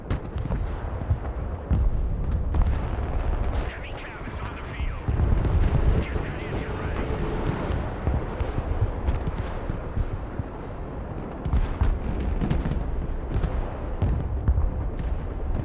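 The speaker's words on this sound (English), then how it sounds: "We have to fire even if the missile launchers are not fully resupplied." Missile launchers firing in a real-time strategy battle: a dense, continuous barrage of booms and blasts with rumbling low end, loud and unrelenting, with someone talking over it throughout.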